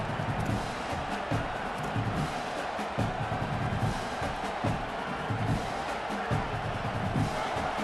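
A large stadium crowd in an American football video game roars continuously on a third down, a dense steady wall of cheering and shouting that never lets up.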